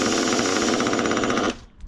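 A small glow-plug engine on a big red model fires with a fast, loud buzzing rattle for about a second and a half, then abruptly cuts out and falls quiet.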